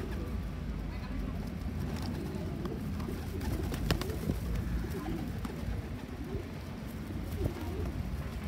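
Pigeons coo low and steadily while being fed, their soft repeated calls running continuously at close range over a faint background rumble.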